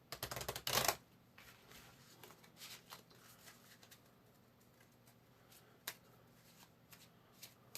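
A deck of cards for the board game I, Napoleon is riffled in one loud, crisp burst, followed by quieter shuffling, tapping and handling sounds close by.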